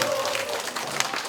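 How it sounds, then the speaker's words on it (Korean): Another brief round of clapping from elderly participants at a Gurye church Bible school, many hands patting at moderate level while a voice speaks alongside. "꼭 한 번 더 가겠다고 한 번 더 박수."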